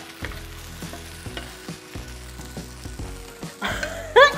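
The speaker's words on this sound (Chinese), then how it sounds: "它现在用炒的了啦，你现在变成炒蚵仔煎哎" An oyster omelette sizzles in a hot pan while a spatula scrapes and taps the metal in a steady rhythm, ending with a louder clatter and hiss as it is turned.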